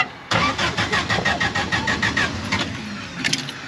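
An old Willys Jeep engine, cold and needing choke, cranks and catches with an abrupt start, then revs in a quick rhythmic series of throttle pulses before settling, close and loud with no talking.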